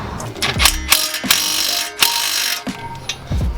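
Bolts being loosened with a hand tool during a Fortune Auto 510 coilover install on a 2015-or-later Subaru WRX STI, giving close, loud mechanical clicking and ratcheting bursts separated by short pauses, with no talk.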